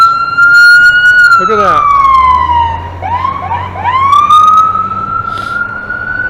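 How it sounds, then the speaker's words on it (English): An ambulance siren wails loudly along a city street as the vehicle passes close by, its tone sweeping up and down over traffic rumble while someone briefly speaks. "Okay, let's watch him go by. Everybody likes an ambulance."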